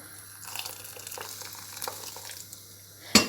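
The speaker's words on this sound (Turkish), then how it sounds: "Şimdi kaynamış suyumu ekliyorum" Boiled water poured into a pot of lentil and noodle soup, a soft liquid splash and gurgle with light sizzling and stirring clinks, ending in a sharp metallic knock near the close.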